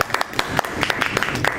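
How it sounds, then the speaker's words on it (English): A small Toastmasters meeting audience claps in scattered, uneven bursts, sparse hand slaps close by rather than a full roar, lasting only a moment. "Let's give them all a round of applause."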